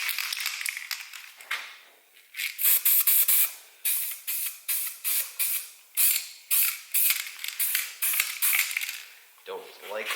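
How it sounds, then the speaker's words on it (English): Aerosol can of etching primer spraying onto partly bare metal auto body panel in a series of short hissing bursts, roughly a dozen quick sprays in a row, close by, with a can rattle near the end. "we're going to go ahead and spray this down with an etching primer"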